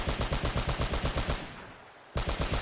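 A mounted gun fires in Uncharted: Drake's Fortune, sending out loud rapid bursts of evenly spaced shots. The fire stops for about a second, then starts again.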